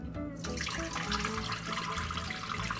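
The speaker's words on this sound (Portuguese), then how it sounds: "Vamos agora escorrer esse macarrão." Hot cooked pasta water pouring out through a lidded pot into a kitchen sink, a steady close rushing and splashing stream that holds constant throughout with no talk.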